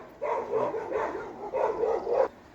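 Several dogs barking in a steady run of close, loud barks in two bursts with a short gap between them, no talk over them.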